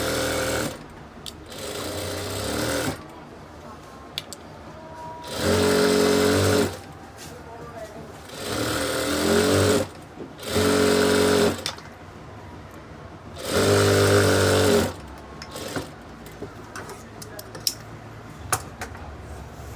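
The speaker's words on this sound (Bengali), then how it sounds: "প্রথমে একটা সেলাই দিব" An electric sewing machine stitches a ladies' pant salwar, running in four loud bursts of a couple of seconds each with quiet gaps between, while a person talks throughout.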